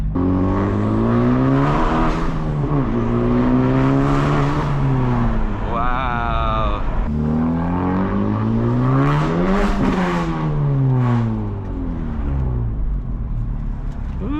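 A 2025 Honda Civic Type R FL5 fitted with a catless downpipe revs loudly up close, its engine note climbing and falling through repeated throttle blips with a raspy, harmonic-rich tone.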